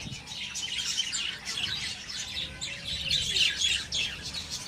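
A flock of breeding budgerigars keeps up continuous busy chirping and chattering, many birds overlapping close by with no pauses.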